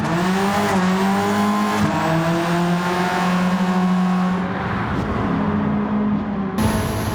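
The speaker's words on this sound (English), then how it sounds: "we can afford to do a bit of tyre shredding rally action" Tyres squeal hard and continuously on a Subaru Impreza WRC rally car in Gran Turismo 7, with the engine droning loud and close throughout and a sharp change near the end.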